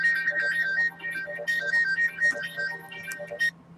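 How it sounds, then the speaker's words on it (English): A mobile phone ringtone plays a bright repeating electronic melody, loud and close, for a few seconds before cutting off, with no one talking over it. "sorry, that was my phone"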